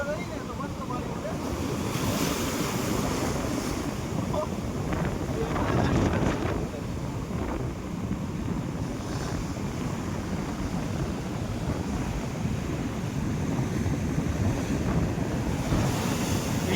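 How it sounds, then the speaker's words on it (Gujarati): Sea waves surge and splash continuously, a dense rushing wash with heavier breaking swells every few seconds, overlaid by gusty wind buffeting the microphone. "જો આ વીળ આવે ને એ બહુ ગજબ ની ઉડવાની છે"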